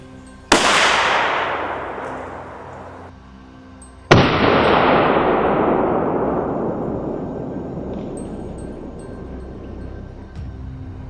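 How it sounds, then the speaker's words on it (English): Rifle shots ring out across open fields in the evening during a wild boar hunt: two sharp, loud bangs, each trailing off in a long rolling echo, with no voices. "In an instant, the loud bang echoed across the fields, shattering the quiet stillness of the evening."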